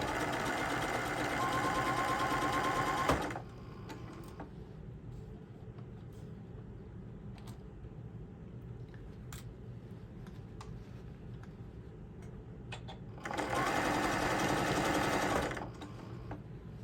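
A sewing machine stitches tote bags in two fast, steady runs, one at the start and one near the end, with a quiet, low room hum between them.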